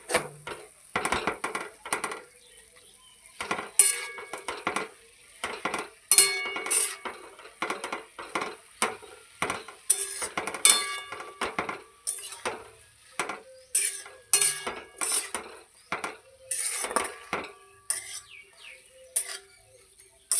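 Pumpkin greens cooked with mustard are stirred in a pan, with repeated sharp scrapes and knocks of a spoon against the pan at an irregular rhythm, close up and with no talk.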